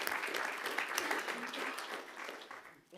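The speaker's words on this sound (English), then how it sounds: "Can we give a round of applause for that as well?" Applause from an audience at a school board meeting, steady dense clapping that fades out near the end.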